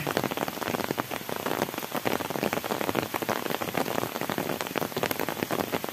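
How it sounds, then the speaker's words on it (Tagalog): Heavy rain pours down steadily, a dense, loud hiss of drops drumming on a surface throughout, with no voices. "Lakas ng ulan."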